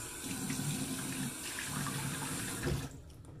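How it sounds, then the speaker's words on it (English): Water runs steadily from a tap into a sink before a shave, a constant splashing hiss that shifts briefly near the end and then cuts off, heard alone and close. "I'm gonna get some water on my face here."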